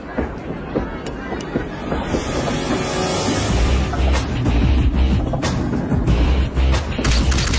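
A train rumbles past nearby, a continuous heavy roar with clattering wheel clicks that grows louder toward the end.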